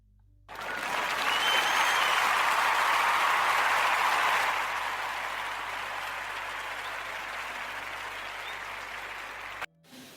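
Enthusiastic audience applause during a Portuguese radio podcast programme, a dense burst of clapping that starts abruptly, holds strong for several seconds, then gradually thins before cutting off.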